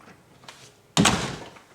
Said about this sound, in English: it will automatically lock like so